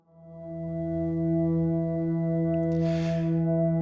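A smooth, clean single-sound synth drone in Quantum fades in and holds a steady, deep tone with clear overtones, a soft breathy swell briefly rising partway through.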